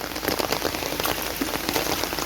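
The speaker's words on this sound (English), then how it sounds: "The rain destroying the road" Heavy rain pouring onto a road on a rainy day, a loud, dense, continuous hiss and patter close by with no voices.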